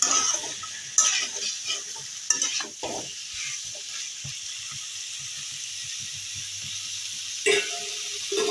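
Fried potatoes and tomato are stir-fried in a pan, a steady sizzle broken by scraping and clattering spatula strokes, louder at the start and again near the end.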